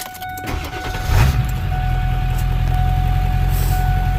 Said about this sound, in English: We'll fire the truck up.